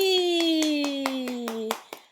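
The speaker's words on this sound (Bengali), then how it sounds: "ওয়াও, হাততালি" Hands clap quickly about eight times in a steady rhythm beside a baby at play, each clap a sharp close snap over a sustained, slowly falling tone.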